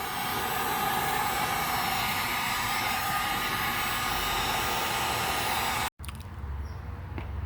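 A heat gun blows a loud, steady roar while warming a Volvo S60 fender for rolling, then cuts off abruptly near the end, leaving a quieter background hum. No one speaks.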